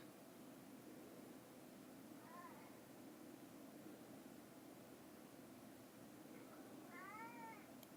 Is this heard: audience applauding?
no